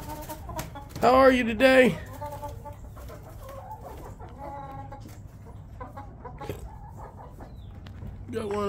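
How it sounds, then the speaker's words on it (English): Chickens cluck close by on a farm where Great Pyrenees puppies are kept, with one loud squawking call early on and softer clucks throughout, while a person talks to the birds. "Well, hi, chickens."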